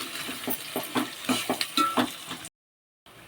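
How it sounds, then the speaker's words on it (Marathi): Sliced onions frying in a pan after curry leaves, with a steady sizzle and rhythmic clinking stirs of a spoon against the pan, then a brief cut to silence. "आता या कांद्याला लालसर आपण भाजून घेऊ"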